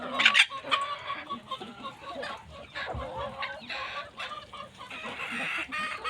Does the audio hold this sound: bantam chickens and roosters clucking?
yes